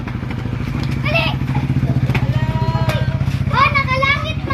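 Motorcycle engine idling and revving close by, a steady pulsing putter running throughout with thumps and clatter, while children and adults talk over it.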